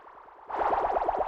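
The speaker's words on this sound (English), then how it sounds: "Then we have 2 downlifters." Downlifter effects sit in a minimal house track, where a rhythmic warbling synth pattern suddenly gets louder and brighter halfway through with a repeating swept, echoing texture.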